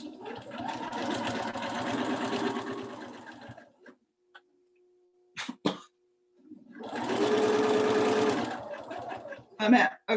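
Sewing machine stitching along the edge of a quilted Christmas throw pillow, running in two long bursts of steady whirring needle clatter separated by a quiet pause with brief knocks and a throat-clearing sound.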